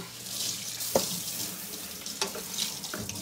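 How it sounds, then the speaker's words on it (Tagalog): A pot of vegetables in coconut milk bubbles at a rolling boil, making a steady watery churning with a few sharper clinks and pops, heard close with no speech. "Tapos, hala, kumulo na, ang bilis. Ang bilis kumulo."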